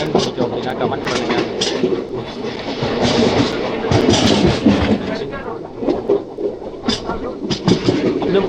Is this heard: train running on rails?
yes